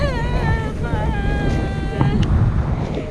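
Wind buffets the microphone in loud gusts while someone shouts excitedly over it, flying on a kite ride in Boracay.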